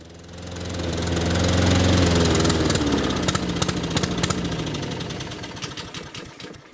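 A petrol lawnmower engine runs loud and close, then sputters and knocks unevenly as it starves of fuel, the rough firing thinning out until it nearly dies.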